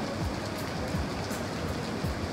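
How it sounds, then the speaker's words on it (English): Light drizzle falling in Singapore, a steady soft hiss of rain with faint scattered drops, even and continuous throughout at low level with no talking. "It is starting to drizzle."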